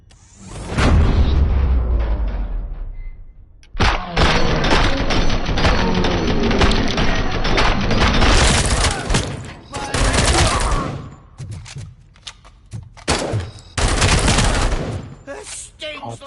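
Sustained gunfire in a RoboCop video game on PS5: long loud stretches of continuous shooting and booming, broken by a few pauses and short bursts, all close and dense.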